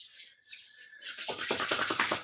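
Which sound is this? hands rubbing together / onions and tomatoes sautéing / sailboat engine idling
hands rubbing together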